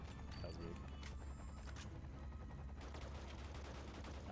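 Steady single-shot gunfire in the Quantum of Solace video game, sharp reports spaced through a dense, constant bed of game noise with a faint voice underneath.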